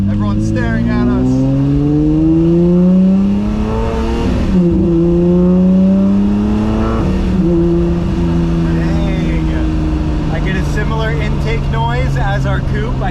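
A Lamborghini Murcielago with muffler and secondary cat delete revs and pulls hard in sport mode, its engine note climbing through gears in rising sweeps with brief shift dips, loud and close from inside, while people talk over it.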